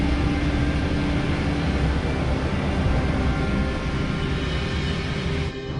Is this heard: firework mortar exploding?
no